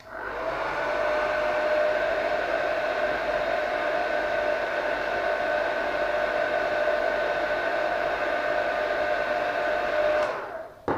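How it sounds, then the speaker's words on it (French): A hair dryer blows steadily at close range, a constant whooshing whine that holds for about ten seconds before cutting off. "on va lui passer un petit coup de sèche-cheveux"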